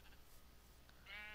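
A sheep bleats in a video game, a short quavering cry near the end over a faint low background hum, quiet and brief.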